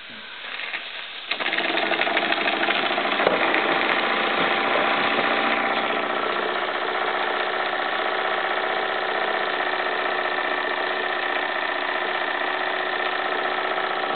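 A Jensen 75 model steam engine drives a small hoist lifting just over 16 pounds at about quarter throttle, a steady close mechanical chugging hum that starts softer and then settles into a constant even running drone.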